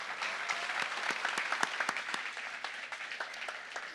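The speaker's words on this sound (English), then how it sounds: "I want everybody to give a round of applause to our panelists right now." An audience at a business marketing session claps for a stage panel, producing steady, fairly faint applause heard from a distance for the whole moment.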